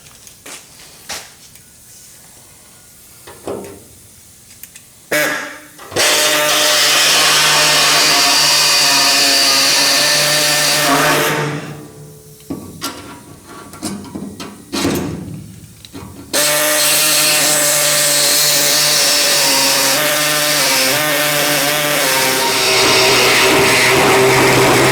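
Loud power tool cutting into a car's metal floor pan during a restoration, with short bursts then two long sustained runs of harsh, whining grinding, separated by quieter pauses.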